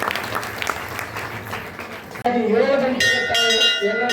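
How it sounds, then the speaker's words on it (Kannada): An audience claps at a Shri Yallalingeshwar Purana recital, a dense burst of applause that gives way abruptly to loud music with ringing bell-like tones. "ಜೋರಾದ ಚಪ್ಪಾಳೆ ಮೂಲಕ ಅಭಿನಂದಿಸೋಣ"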